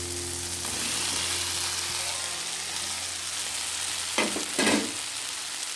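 Fried okra stirred into a sizzling onion-tomato mix for tamarind curry, a steady soft frying hiss with a couple of louder scraping stirs near the end.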